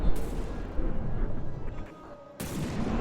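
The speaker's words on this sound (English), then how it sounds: "this secondary gun is still able to shoot back" A naval secondary gun fires in a naval warship game, heavy booming shots with rumbling decay, one near the start and another about two and a half seconds in.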